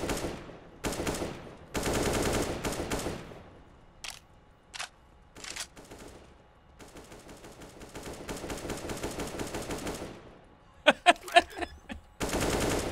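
Bursts of AK rifle fire in an online matchmaking shooter: several rapid volleys and sharp single shots come loud and close, separated by short gaps, with a final cluster of quick cracks.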